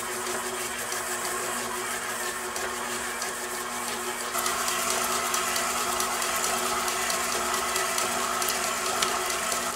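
Electric stand mixer on stir speed creaming chocolate cake batter with eggs, a steady continuous motor whir that steps up slightly louder partway through, close and alone.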